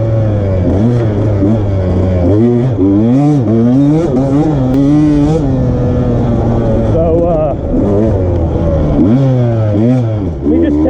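A 2020 KTM 150 XC-W two-stroke dirt bike ridden at Rivers Edge, engine loud and close throughout, revving up and down in rising and falling sweeps as it shifts through gears, with no talk over it.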